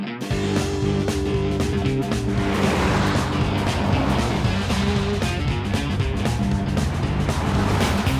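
A new 2011 Volvo S60 runs on a foggy skid pad, its engine a steady, loud, close drone that holds almost unchanged throughout, with no break or pause.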